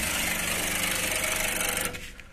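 A generator's starter motor cranks steadily without the engine catching, a dense grinding whir that holds for about two seconds and then winds down and fades.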